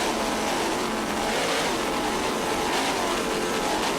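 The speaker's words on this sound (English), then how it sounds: "It's a 41-foot Apache powered by two 1040 Zool inboards with Mercruiser drive." A 41-foot Apache racing powerboat with twin 1040 inboard engines and Mercruiser drives at an offshore race, a loud unbroken roar of engines mixed with rushing water and spray.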